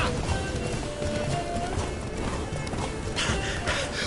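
Roach, Geralt's horse in The Witcher 3: Blood and Wine, gallops with rhythmic hoof clip-clops over a busy game soundscape, with voices talking over the running hooves.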